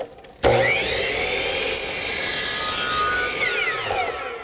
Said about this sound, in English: Now I'll just cut it to length.